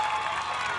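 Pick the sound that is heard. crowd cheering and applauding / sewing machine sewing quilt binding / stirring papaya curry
crowd cheering and applauding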